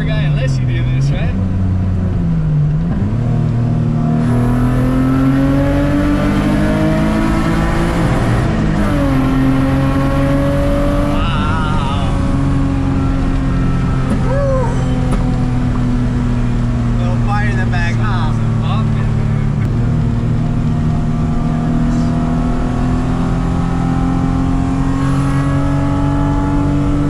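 A 1999 Honda Civic EK hatchback with a J-swap engine revs hard while passing under a bridge, its loud engine note climbing and falling in long sweeps that echo, while people talk over it.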